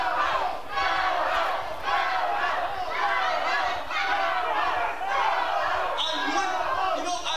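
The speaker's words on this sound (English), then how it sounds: "The crowd chanting, "Go home," to John Campbell." A wrestling arena crowd at an NWA show chants "Go home" at John Campbell, a loud rhythmic roar of many voices that repeats in pulsing waves and swells briefly near the end.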